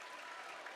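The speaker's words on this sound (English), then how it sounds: "Round of applause for the Mustangs." Brief burst of steady applause in a gym for the Mendon Unity Mustangs basketball team after a regional championship game, a dense clapping wash from the crowd.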